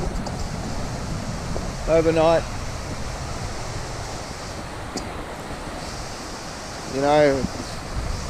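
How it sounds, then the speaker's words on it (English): A swift river rushes by in a steady, loud broadband roar of flowing water, with someone briefly speaking twice over it. "here's the river"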